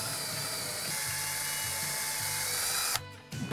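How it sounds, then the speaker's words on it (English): A power drill bores a hole for a barn door bracket, a steady high-pitched whine with a slightly pulsing motor note, ending as the bit breaks through and the drill stops briefly before restarting. "As a guide for the drill, seat the drill again."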